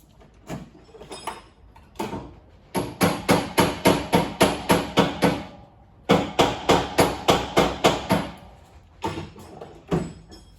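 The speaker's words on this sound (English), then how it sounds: "Big chisel, big hammer." A big hammer pounds a big chisel in steady rapid runs of metallic blows, pausing briefly between bursts, loud and close.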